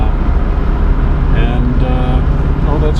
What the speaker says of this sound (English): driving down the highway, the transmission shifts as it should